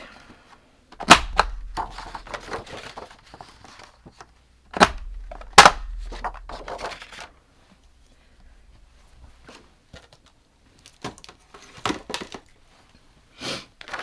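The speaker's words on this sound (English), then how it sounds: "on the back of the punch board there is a corner rounder" Sharp clicks of a corner rounder punch on the back of a paper-crafting punch board, two loud snaps near the start and middle with lighter tapping and paper handling between, alone without talk.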